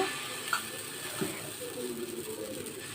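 Dosa batter sizzles on a hot pan, a soft, steady frying hiss close by with a few faint scraping clicks, and no one speaking.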